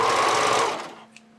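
A sewing machine zigzag-stitches elastic onto fabric for hipster panties, a short, fast mechanical whir that runs alone and then quickly winds down and stops.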